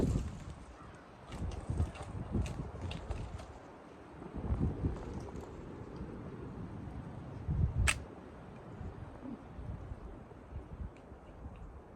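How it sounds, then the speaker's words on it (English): Gusty wind rumbles against the microphone outdoors at a shooting session with an Elliott Pattern Light Dragoon of 1759 firearm, in uneven bursts, with scattered sharp clicks and a brief crack near the end. "it is kind of windy today too"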